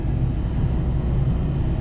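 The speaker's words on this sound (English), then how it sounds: "Bus is still running smoothly." A shuttle bus engine runs steadily, its low rumble close and unbroken, with no voices over it.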